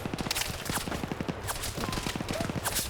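Rapid bursts of gunfire in a military PvP shooter game set during an invasion of Venezuela, the rattling shots coming in two dense volleys with a brief gap between them.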